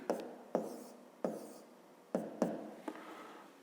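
Numbers written by hand with a pen on paper, close and quiet. Six or seven short tapping strokes fall at irregular intervals, each with a small scratch trailing off behind it.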